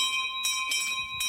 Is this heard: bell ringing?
yes